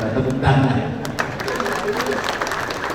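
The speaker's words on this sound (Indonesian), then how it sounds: "Ketua DPRD Provinsi Jawa Barat, tepuk tangan." A crowd claps steadily at an official inauguration ceremony, a dense patter of applause filling the room, with a voice speaking over it at the start.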